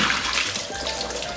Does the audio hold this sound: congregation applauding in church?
no